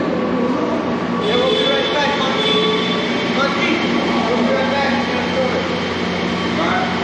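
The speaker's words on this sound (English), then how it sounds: "these are all the trains, whether Amtrak or Metrolink." Amtrak and Metrolink trains rumble at Union Station in Los Angeles, with a steady rolling roar, tonal hum and faint squeals, and a person talking over the rail noise.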